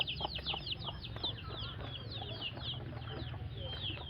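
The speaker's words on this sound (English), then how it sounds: "The chickens is running around and the chickies." Many chickens clucking and chirping continuously at moderate distance over a low steady background rumble.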